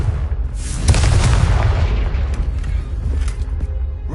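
In the Hogwarts Legacy video game, a Confringo fire spell bursts with a loud, close, booming blast. A deep rumbling tail rolls on for several seconds afterward.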